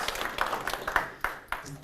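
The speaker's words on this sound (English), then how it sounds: "Give him a round of applause, would you please?" Scattered audience clapping at a live community event, a short patter of hands with a few sharper claps, brief and moderately close, with a voice speaking over it.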